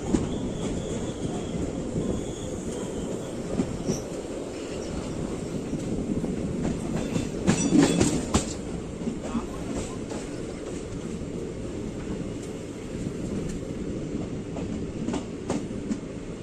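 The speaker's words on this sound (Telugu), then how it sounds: "సో ట్రైన్ అసన్పర్తి రోడ్ బ్రిడ్జ్ని అయితే క్రాస్ చేస్తుంది." Morning passenger train rolling across the Asanparthi road bridge between Jammikunta and Kazipet, a steady close rumble of wheels and carriage noise throughout, with a brief louder clatter midway.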